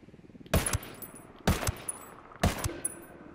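MK-17 rifle firing in Ghost Recon Wildlands, three loud sharp shots spaced about a second apart, each with a quick double report and short echo tail, over a low rumbling game background.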